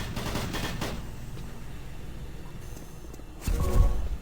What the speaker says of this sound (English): There's actually a guy shooting me.